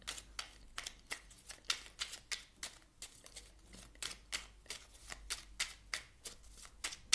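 A deck of slippery playing cards is riffled and shuffled again and again, giving a steady run of crisp, fluttering snaps in quick rhythm, close up and fairly soft, with no talk over it.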